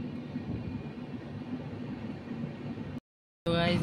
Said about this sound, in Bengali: আমাদের ট্রেন প্রথম স্টপে শিলিগুড়ির উদ্দেশ্যে রওনা দিয়ে ফেলেছে